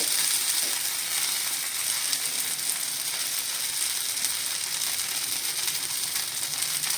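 A dosa fries in oil on a clay tawa, giving a steady, close crackling sizzle with faint ticking that holds at an even level throughout, with no talk.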